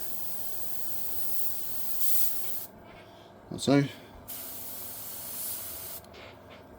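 Bursts of hissing airbrush paint spray come and go in short pulses through a stencil on an RC drift car, with a brief spoken phrase in the middle between them.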